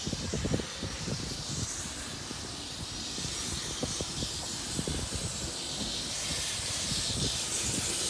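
A Pendolino train pulls out of Carlisle bound for Edinburgh, a broad airy hiss and rushing sound over low, uneven rumbling thumps. It is fairly quiet and heard from trackside, with no voices.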